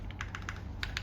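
Typing on a modded Vento80 Wisteria mechanical keyboard: a quick run of loud, close, clacky keystrokes in an uneven rhythm, about ten strokes in a second, heard alone without talk.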